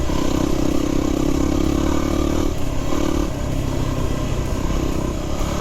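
A Yamaha WR250R motorcycle rides steadily, its engine droning continuously under heavy wind rush and road noise, close and constant throughout with slight dips in pitch.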